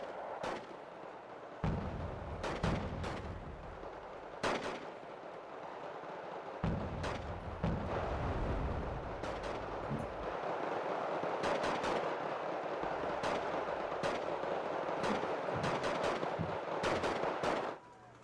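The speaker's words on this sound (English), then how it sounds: "I hear lots of gunfire noises." Heavy battlefield combat in the strategy video game Wargame: Red Dragon, with rapid machine-gun bursts, scattered rifle shots and deep booming artillery impacts building into a dense, continuous roar of gunfire.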